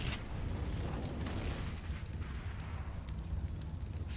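Molotov fire roaring and crackling on Overpass in a CS:GO esports match between G2 and Fnatic, a steady, fairly quiet rumbling burn with faint pops and no voices over it.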